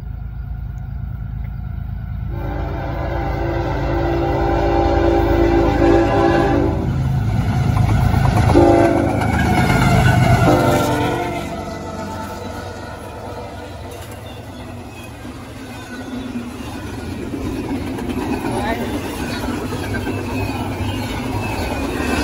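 A CSX freight train rolls past with a long, sustained horn blast in the first half, then the steady rumble and clatter of passing railcars continues close by.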